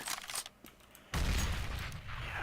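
A grenade is thrown in the video game CS:GO, with scattered gunfire and clicks before a sudden loud, booming explosion that rumbles on for more than a second.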